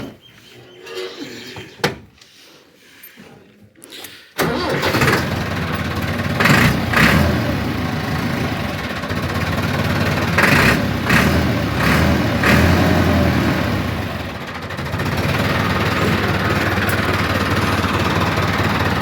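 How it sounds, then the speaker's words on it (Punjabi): A modified green Massey Ferguson 385 tractor, a 2010 model, starts up and runs loud and close, its diesel engine rumbling steadily with repeated rises in revs. "ਜ਼ਬਰਦਸਤ ਸਾਊਂਡ ਆ ਟਰੈਕਟਰ ਦਾ।"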